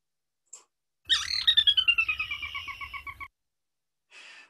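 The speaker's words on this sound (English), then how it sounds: "So those cute little pipping sounds can be a distinctive way of finding sora." A sora rail gives a quick series of high, piping notes in a marsh, starting loud and tapering in a descending run of about a dozen calls, with a few faint separate chirps before and after.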